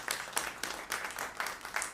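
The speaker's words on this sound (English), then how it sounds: "Let's give like a mini round of applause to Lena." Short round of audience applause at an improv comedy marathon, a brief burst of dense clapping in quick pulsing waves, fairly close and unaccompanied by talk.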